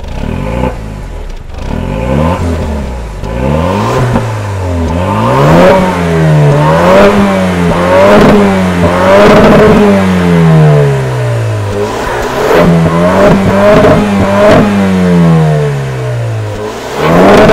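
A Jaguar F-Type P300 with a 2.0 turbo engine accelerates hard around the Interlagos circuit, its loud, close engine climbing through repeated rising sweeps with brief drops at each gear change, no voices present.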